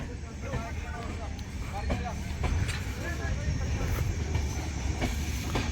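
A train rolls along a railway track under repair after a crash, a rumbling clatter that builds midway and continues under someone talking over it.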